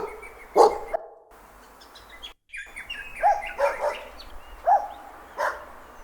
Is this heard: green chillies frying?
no